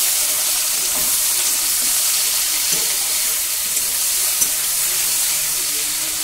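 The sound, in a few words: frying boiled taro stolons in hot oil with nigella seeds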